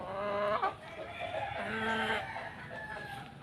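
Gamefowl chickens clucking and crowing nearby, a rooster's harmonic calls rising over repeated clucks from other birds, steady and fairly loud with no voices.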